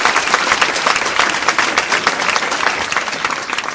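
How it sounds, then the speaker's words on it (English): Studio audience applause for quiz teams at the close of a televised career quiz, dense steady clapping that stays loud and close for the whole stretch with no voices over it. "Big round of applause to them."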